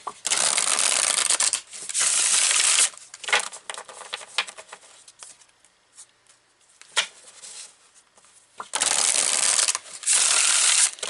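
Herb Crafters Tarot cards are riffle-shuffled close up in several loud bursts of rapid papery flutter, separated by quieter handling and tapping.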